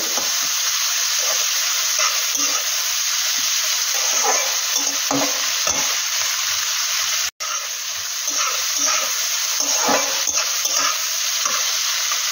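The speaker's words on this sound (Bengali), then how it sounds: "পেঁয়াজটা যখন অল্প একটু ভাজা ভাজা হয়ে যাবে" Onions frying in a pan for a red meat curry, with a steady close sizzle throughout and repeated stirring scrapes, briefly cutting out about halfway.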